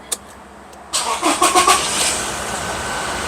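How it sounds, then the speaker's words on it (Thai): Toyota Revo pickup engine cranking and catching after a short click, with a few quick surging bursts that settle into a steady idle close by. "ติดเครื่องดูนะครับ"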